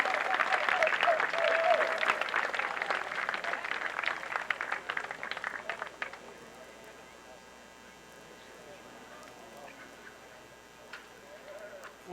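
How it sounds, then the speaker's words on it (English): Crowd applause at an American Legion baseball home run derby, a loud sustained burst of clapping for the arriving hitter and pitcher that fades out after about six seconds, leaving quiet open-air ambience. "Let's give them a big round of applause."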